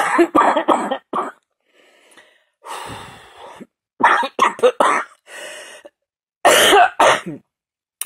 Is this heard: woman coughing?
yes